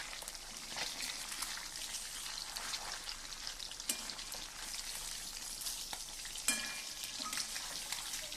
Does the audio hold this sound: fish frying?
yes